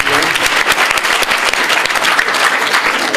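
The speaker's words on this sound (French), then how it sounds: "Alors, on applaudit très fort." Loud, dense applause from an audience at a literary book signing ceremony, steady clapping filling the whole stretch with no break.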